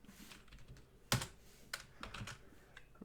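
Keys clatter on a computer keyboard while code is typed, with soft irregular taps and one sharper strike near the middle, close and alone without talk.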